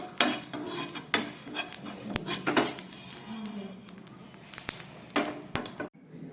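Dry chilli, coriander, cumin and fennel dry-roasting in a pan, with repeated scraping stirs and clinks of a utensil against the metal over a light rustle of shifting spices, close up and irregular, ending abruptly.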